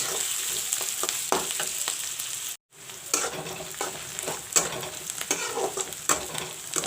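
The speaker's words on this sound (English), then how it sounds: "I will let the onions fry a little bit brown" Onions frying in a pan for an arbi curry, a continuous crackling sizzle with stirring clatter, a brief silent gap near the middle, then sizzling resumes with sharper spatters.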